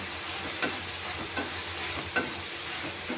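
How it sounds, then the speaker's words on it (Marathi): Methi (fenugreek) greens sautéing in oil in a pan, a dense continuous sizzle with periodic scraping strokes of a spatula, close and steady with no talk. "त्याला 5 मिनिटं असंच परतू द्यायचं."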